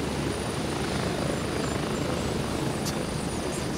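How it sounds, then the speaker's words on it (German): A helicopter in the military shooter game Gray Zone Warfare, its rotor and engine drone steady and loud throughout with no talk. "Der hinter uns, der Heli, der kommt auch."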